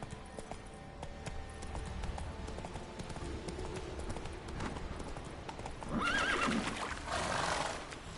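Geralt's horse Roach in the Witcher 3 video game, steady clip-clop hoofbeats at a trot with a couple of clear neighs and whinnies rising over them toward the end.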